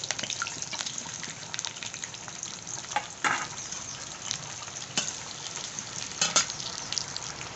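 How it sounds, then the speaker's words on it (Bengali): Onions frying in hot oil for beef biryani make a steady, moderately quiet sizzle, with a few sharper crackles and brief stirring scrapes standing out now and then. "বিরিয়ানির জন্য এই পেঁয়াজটা ভেজে নেব"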